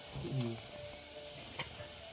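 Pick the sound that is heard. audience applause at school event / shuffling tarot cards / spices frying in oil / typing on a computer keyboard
spices frying in oil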